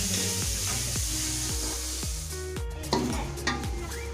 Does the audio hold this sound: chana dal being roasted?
yes